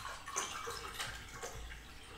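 Water poured into a glass at a home table beside a vegan burger and croquettes, a steady close splashing trickle lasting about two seconds with no voices.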